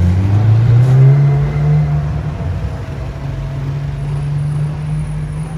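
A McLaren supercar driving through Monaco, its engine giving a loud, close drone with rising and falling harmonic tones as it revs and pulls past, heard alone without talk.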